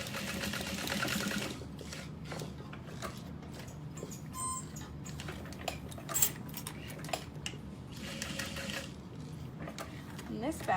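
A sewing machine stitches a box stitch on a tote bag strap in short bursts of quick rattling needle motion, separated by pauses with small handling clicks.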